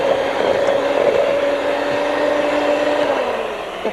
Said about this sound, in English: Now we're going to lightly beat the eggs.